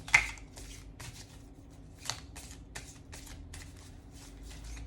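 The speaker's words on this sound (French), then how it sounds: "On va tirer encore une carte de cet oracle." Oracle cards being shuffled, a steady run of soft papery riffles and flicks with a sharper snap at the start, close and alone in a quiet room.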